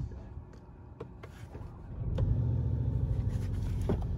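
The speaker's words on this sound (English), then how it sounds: "I'm gonna turn on the car." A 2021 Škoda Octavia RS engine starts up roughly halfway through, settling into a steady, low, close-up idle rumble that carries on to the end.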